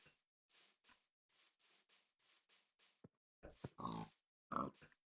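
A series of short pig grunts and oinks comes in quick bursts, some louder and rougher near the end, with brief silences between.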